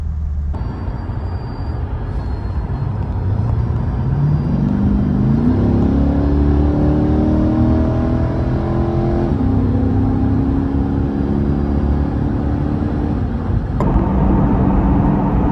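A 2022 Chevrolet Corvette C8 Stingray engine accelerating from inside the car, a loud continuous rumble whose pitch climbs through the gears with a brief shift near the end.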